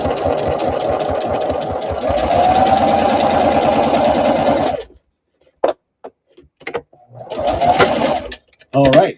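A sewing machine runs a steady half-inch seam for about five seconds, loud and continuous with a fast rhythmic stitching pulse, then stops; a few short bursts of stitching and a voice follow in the quieter second half.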